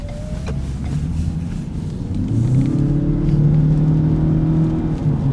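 A 2017 Ford Fusion Titanium Hybrid with a 2-liter four-cylinder engine accelerating on a road, a close interior rumble whose engine drone rises in pitch and grows louder midway, with no talking.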